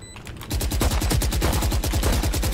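A loud, rapid burst of automatic gunfire in the video game Valorant, evenly spaced shots firing nonstop for about two seconds, close and dominant.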